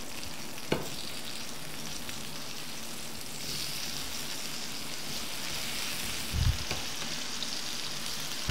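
Chicken reshmi kababs fry on a hot tawa griddle, giving off a steady, even sizzle with a few soft pops and one brief low thump near the end. No one speaks.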